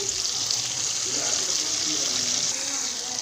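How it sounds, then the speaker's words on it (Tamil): Water is poured into a mixer grinder jar to rinse it while cooking egg curry, a steady close rushing pour that runs unbroken for about three seconds. "கொஞ்சமாக தண்ணி ஊற்றி அலசி ஊற்றிக்கோங்க"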